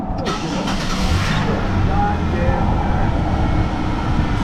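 A Chevrolet Monte Carlo SS engine cranks and catches, then settles into a loud, steady mid-pitched idle close by, with a voice heard over it.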